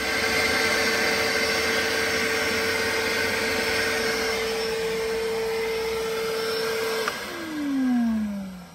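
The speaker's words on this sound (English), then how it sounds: "we're using a vacuum to pull the power wires and stuff out" A vacuum cleaner runs steadily and close by as it sucks wire slivers out of a failed amplifier, then winds down near the end with a falling motor pitch.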